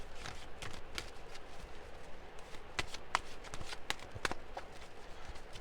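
Tarot cards are shuffled by hand in a rapid, soft riffling patter with sharper flicks and snaps now and then, close and fairly quiet, without talk.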